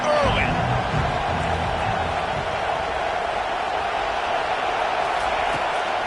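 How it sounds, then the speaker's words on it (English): Stadium crowd in a college football video game, Texas versus Oregon, a steady loud roar of massed voices filling the whole stretch without pause, with a commentator speaking over it. "This crowd bringing the energy and noise early."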